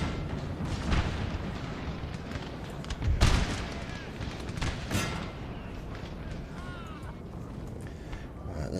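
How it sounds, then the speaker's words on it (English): Artillery barrage in Napoleon: Total War, a dense rumbling wash of booms and cannon fire with a sharp burst near the three-second mark, loud and continuous throughout. "Put a barrage on that lot."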